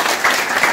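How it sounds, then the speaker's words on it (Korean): An audience claps at a political rally in a brief, loud burst of dense applause from a crowd. "박수 한번 쳐주십시오"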